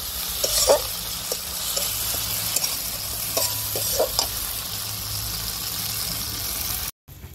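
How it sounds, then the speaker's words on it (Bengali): Ginger paste stirred and fried in a karahi with tomatoes for a spicy double-yolk egg curry, giving a steady close sizzle with repeated scraping strokes of a spoon and a brief gap near the end. "আদাটা ভালো করে নেড়ে চেড়ে আদার গন্ধ চলে গেছে"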